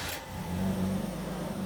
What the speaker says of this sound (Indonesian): ini posisi mesin udah start dan nyala.